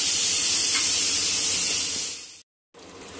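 Masala for sabut moong daal sizzles as it fries in a pan, a loud, steady close hiss that fades, cuts out briefly, then resumes.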